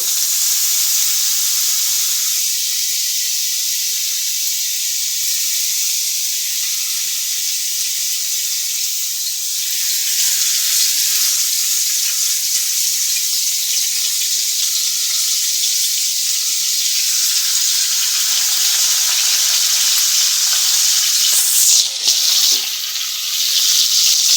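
Koi fish for a village-style paturi, wrapped in bottle gourd leaves, go into a hot pan one at a time. A loud, steady sizzle of frying runs throughout, with a brief clatter near the end.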